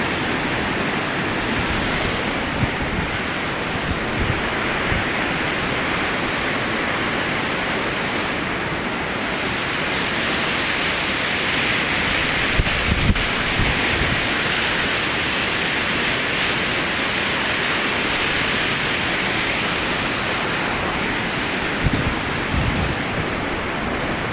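A swollen river runs high after the banks broke in light rain, a loud steady broadband rush with faint wind and occasional low thumps, no talk.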